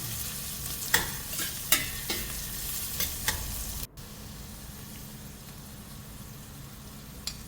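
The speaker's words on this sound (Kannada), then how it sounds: "ಮೆಣಸು ಮತ್ತು ಗಾರ್ಲಿಕನ್ನು ಹಾಕಿ ಚೆನ್ನಾಗಿ ಫ್ರೈ ಮಾಡಿ ಎಣ್ಣೆಯಲ್ಲಿ" Pepper and garlic fry in oil for masala rice, a steady close sizzle with several sharp spatula scrapes and stirs in the first half, then an even, quieter frying hiss alone.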